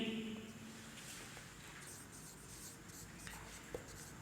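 Chalk or marker writing on a classroom board during an English grammar lesson, soft scratchy strokes in short bursts, faint and close, with no talking over them.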